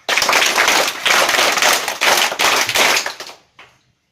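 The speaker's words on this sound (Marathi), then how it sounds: "सर्वांनी 3 टाळ्या वाजवून कासवाचे स्वागत करा" An audience at a school play claps in unison in several loud, rhythmic bursts of clapping. The clapping stops abruptly and a brief fainter tail follows.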